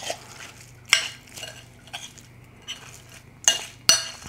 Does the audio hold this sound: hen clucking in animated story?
no